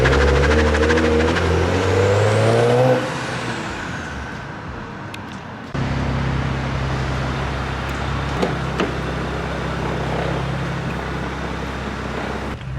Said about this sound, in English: He probably heard the car revving.